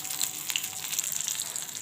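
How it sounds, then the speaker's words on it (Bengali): Catla fish head frying in hot oil, a steady crackling sizzle with fine bright pops throughout, moderately loud and close, with no talking. "তো এখন আমি এই মাছটা আপাতত ভাজা হয়ে গেছে,"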